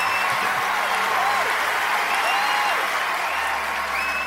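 Crowd applause in the online game LOTRO, steady clapping and cheering for a few seconds with light chime-like tones over it.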